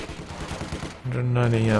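A flak half-track in Company of Heroes 2 firing a fast burst of rapid gunfire, then a steady low mechanical drone. A voice may be mixed in.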